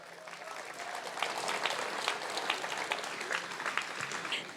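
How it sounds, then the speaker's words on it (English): An outdoor crowd at the March for Life rally in Brisbane applauding a speaker steadily, clapping building slightly and holding with scattered sharper claps throughout. "So let's give a huge round of applause to Joanna."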